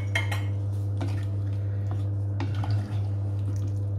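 A can of coconut cream opened and poured into a pot, with clinks and taps of metal on metal and soft wet plops over a steady low hum, close and moderately quiet.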